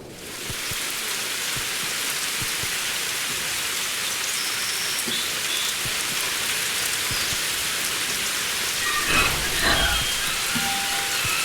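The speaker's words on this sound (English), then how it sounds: "Oh, it's raining" Steady rain falls in The Enigma Machine, a constant dense patter and hiss of drops on surfaces, with a brief low rumble and scattered clicks near the end.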